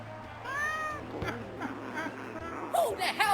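A cat in the Bad Rats puzzle game meows repeatedly, rising and falling cries spaced through the moment, up close over a low game hum, with a few extra yowls near the end.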